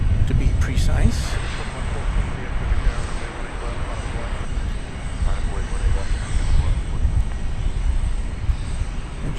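A United Airlines Airbus A319 rumbles loudly at DFW airport, a broad steady roar of jet engines rising and swelling over the whole stretch, with a voice talking over it.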